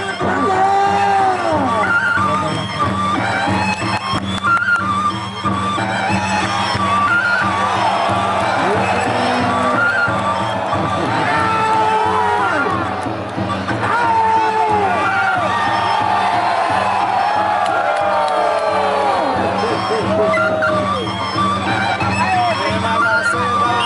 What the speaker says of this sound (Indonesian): Tepuk tangan Prabowo.